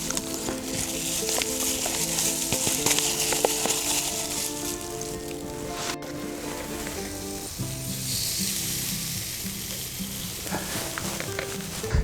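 Steady, loud sizzling of marinated chicken cooking on a grill rack over hot coals, with crackles and pops throughout and no talking.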